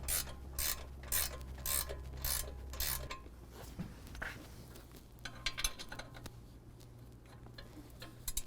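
A ratchet loosens the two nuts holding the strut tower at the lower control arm of a 2024 Ford F-150, giving quick rhythmic clicking bursts up close, then quieter scattered clicks and metal rubbing.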